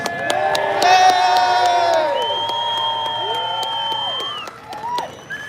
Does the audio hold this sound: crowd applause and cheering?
yes